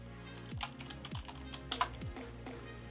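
Keys clatter on a computer keyboard as something random is typed into a running Python program, a quick run of close, crisp clicks with a few harder strikes, with no talking.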